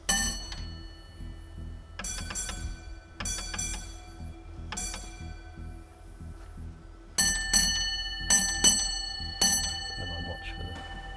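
Railway signal box block bell at a signalling school, struck in short clustered groups of clear ringing dings with pauses between them, close and loud, with a voice speaking faintly around the rings.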